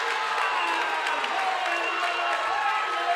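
A high school basketball crowd in a gym cheering and clapping after a made basket, a steady roar of voices and applause with a commentator talking over it.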